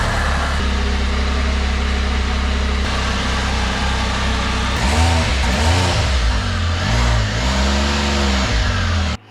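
A Can-Am Spyder's engine roars loud and close on a test ride, holding a steady drone before a series of rising revs and gear shifts, then cutting off abruptly.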